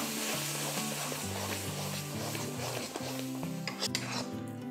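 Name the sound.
mixing cucumber dhondas batter in a pan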